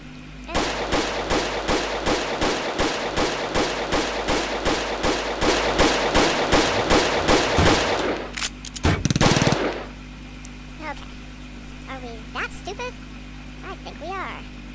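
Soldiers firing in the war strategy game Soldiers of Anarchy: about eight seconds of steady, evenly spaced automatic fire, loud and close, then a couple of heavier blasts before quieter scattered battlefield sounds.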